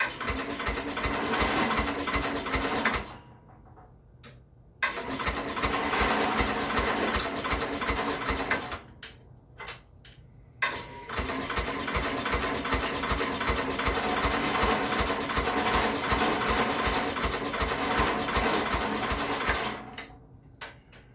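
Starter cranking a Bolens 1050 garden tractor engine that is flooded and has oil in the cylinder, a loud, steady rapid chugging churn in long bursts broken by brief pauses, without catching or starting.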